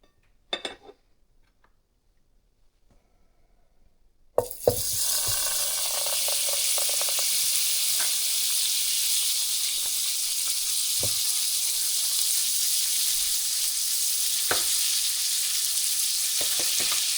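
Butter melting in a pan for garlic butter chicken on medium heat, a steady close sizzle and hiss that starts suddenly and runs continuously with a few soft clinks and scrapes.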